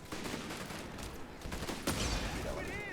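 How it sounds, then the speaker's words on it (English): Enemy infantry gunfire crackles in a World War II strategy video game, with dense overlapping rifle and machine-gun bursts, a sharp louder shot near the end, and faint commentary voices underneath. "Enemy infantry have opened fire."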